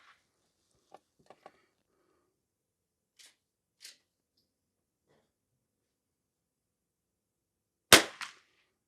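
One sharp, loud gunshot from a Henry H001 lever action rifle firing bulk ammunition rings out near the end, after a long quiet stretch with a few faint clicks and handling sounds.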